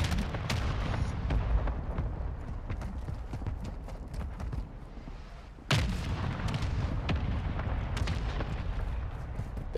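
Gunfire in Call of Duty: Modern Warfare II: a dense, steady stream of rapid shots and heavy booms, with a sharp, louder burst partway through and continued firing after it, and no voices.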